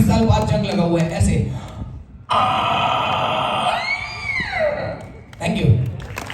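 A comedian's voice imitating a rusty door creaking open after years unused, with a drawn-out strained creak rising and falling, before and after brief talk at a Mumbai comedy show.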